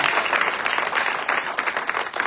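A church congregation at a pastor's service bursts into loud, dense clapping that stays steady and continuous, with a few faint shouts mixed in.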